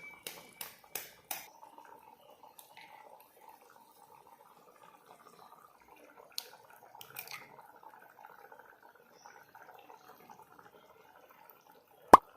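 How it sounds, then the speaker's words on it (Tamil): Eggs cracked and poured into a pan of simmering egg gravy, a few sharp taps and cracks at the start, then soft liquid trickling and bubbling, more taps midway and one loud knock at the end, with no talk. "எடுத்து வச்சிருக்க முட்டையை உடச்சி ஊற்றிப்போம்"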